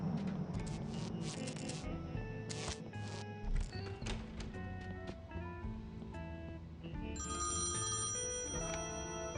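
A telephone ringing inside a bank in the adventure game Thimbleweed Park, repeated bright electronic rings mixed with soft background music, fairly quiet and steady throughout.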